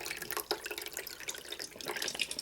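Water pours steadily from a tap into the reservoir of a Keurig B31 Mini Plus coffee maker, a close, continuous splashing trickle.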